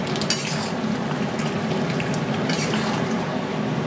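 Bhuna chicken and potatoes are stirred in a pan, a close, continuous mix of thick sizzling and the clatter of a spatula scraping against metal, steady and fairly loud without talk.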